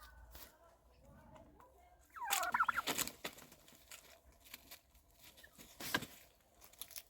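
A young male turkey with peacock-like plumage gives a loud, close gobble, a rapid rattling burst lasting under a second, followed by a shorter second call, while someone talks around it.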